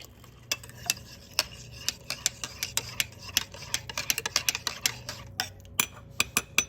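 A spoon stirring instant coffee in a cup, rapid light metallic clinks and taps in irregular bursts, close and fairly quiet over a low kitchen hum, no voices.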